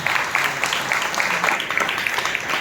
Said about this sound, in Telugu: బిగ్గరగా చప్పట్లు కొట్టి ప్రభువుని మహిమపరచండి